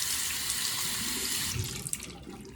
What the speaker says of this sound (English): First, you want to rinse your hand with water.